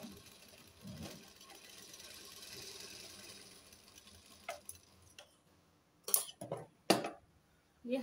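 A sewing machine stitches fabric for a kurti with a soft, low running hum, then a few sharp mechanical clicks and clatters near the end, with no voices.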